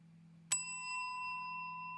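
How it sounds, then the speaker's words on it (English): Bell sound effect, a single bright ding struck once and then ringing with a long, sustained, slowly fading tone over a quiet low hum. "that's going to be a bell sound"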